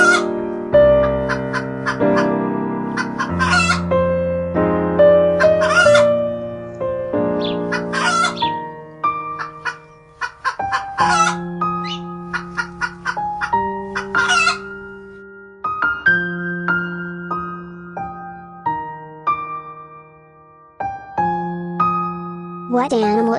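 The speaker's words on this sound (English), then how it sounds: "A hen goes cluck." A farmyard rooster crows repeatedly, loud and close, alongside clucking fowl and brighter bird calls over a steady musical backing, with a voice speaking at points.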